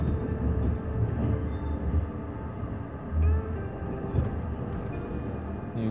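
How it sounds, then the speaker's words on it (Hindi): A cargo train passes close by during a train journey from Rawalpindi, a steady heavy rumble with rail clatter that holds loud and continuous throughout, with no speech. "ये कुछ कार्गो टाइप की ट्रेन है।"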